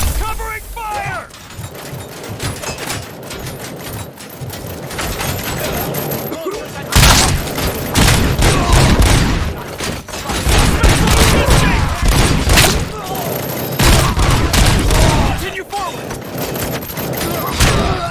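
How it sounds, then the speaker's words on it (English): Heavy gunfire in the video game Robocop Rogue City, with rapid repeated shots and booming impacts throughout, a short pause, then dense fire again, while voices shout over the combat. "Covering fire!"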